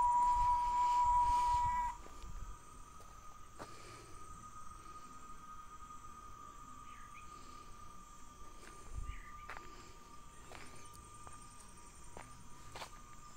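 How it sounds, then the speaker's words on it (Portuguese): Cicadas sing in the countryside at sunset: a loud, shrill buzz for the first couple of seconds drops to a faint, distant drone, with occasional soft rustles and footsteps. "Vai ficando longe o canto da cigarra."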